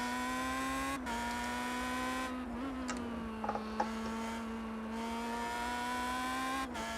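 Race car engine in iRacing held at a steady high drone in second gear with throttle kept on under braking, pitch dipping slightly through a corner and rising again, continuous and close with no talk.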